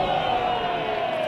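A cricket crowd at a Somerset versus Essex County Championship match roars and cheers in a steady, dense wash of voices, loud and sustained without a break.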